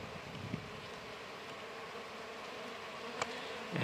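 Honey bees in a hive drone in a dense, steady hum as they swarm a drone-laying queen, close and continuous with a few louder buzzing passes near the end.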